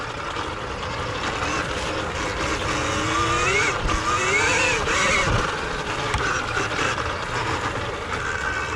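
The low-inertia electric motor of a 2020 KTM Freeride E-XC motorcycle whines upward in pitch as it revs, rising and falling in smooth sweeps, loud and close, over rumbling road noise.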